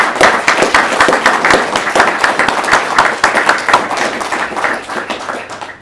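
An audience at a Polish gathering claps together in sustained, lively applause that stays loud and dense throughout, with no voices over it.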